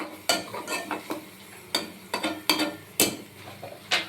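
Vermicelli frying in a pan for a savoury yogurt vermicelli dish, soft sizzling broken by irregular loud scrapes and knocks of a spoon stirring against the pan, close and without talk.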